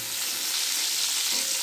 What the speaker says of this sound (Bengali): পটলটা ভাজা হচ্ছে আমার